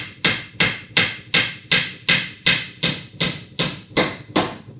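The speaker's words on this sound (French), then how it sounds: "petit marteau, vous prenez votre clou" A small hammer drives a nail into a wooden pallet with about eleven evenly spaced, sharp, ringing blows, close and loud, no talking.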